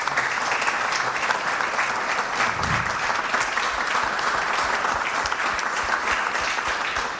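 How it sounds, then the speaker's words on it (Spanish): A theatre audience applauds in a dense, steady roar of clapping that holds evenly from start to finish, loud and close, with no speech over it. "despidamos con un fuerte aplauso"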